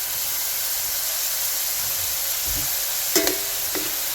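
Rice and chicken for arroz con pollo cook in a pan with a steady, close sizzling hiss, plus a few brief stirring scrapes near the end.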